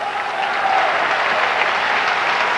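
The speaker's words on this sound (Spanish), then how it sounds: "Denle un aplauso, papá." Church congregation breaks into loud, sustained applause, a dense close roar of many clapping hands with faint cheering voices blended into it.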